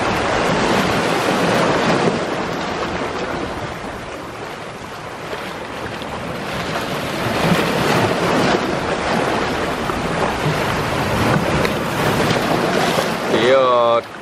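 A giant cruise ship moves fast across the open sea, with a steady broadband rush of wind and churning water throughout, loud and continuous.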